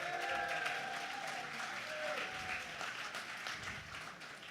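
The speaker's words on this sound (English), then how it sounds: "so let's give him a round of applause" A room of attendees at a tech panel event applauds, a steady, fairly soft wash of clapping with crowd murmur beneath it.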